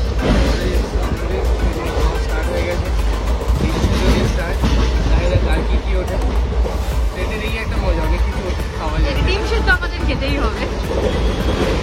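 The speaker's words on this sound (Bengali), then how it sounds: "ট্রেন ছেড়ে দিয়েছে আমাদের একদম অন টাইম।" A passenger train from Kolkata to NJP rolls along with a constant heavy rumble and rattling clatter, loud and near, while people talk over the noise.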